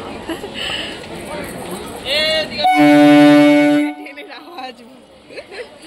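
At Ranaghat railway station, people talk close by, then a train's horn blares loudly for about a second. The station murmur and voices carry on after it stops.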